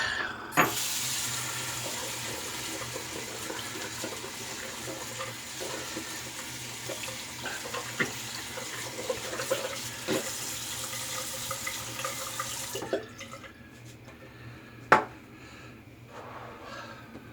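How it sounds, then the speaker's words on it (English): Tap water runs steadily into a sink while a shaving brush is rinsed, a close, continuous broadband rush with small clatters, then the flow stops and a single clack is heard in the quieter tail. "Let's rinse our brush."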